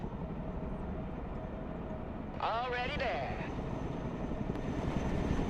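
A Chinook cargo helicopter flying in the video game Broken Arrow, a steady engine and rotor drone, with a short radio voice speaking over it.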